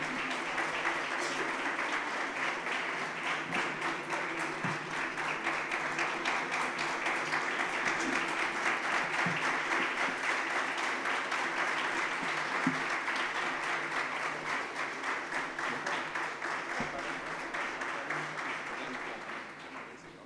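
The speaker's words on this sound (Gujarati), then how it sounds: "જોરદાર તાળીઓથી આપણે આ સન્માનને વધાવીએ છીએ" Loud, sustained applause from a gathered audience at a community honoring ceremony for Rekhaben Radadiya in Surat, steady dense clapping lasting about twenty seconds before tapering off at the end.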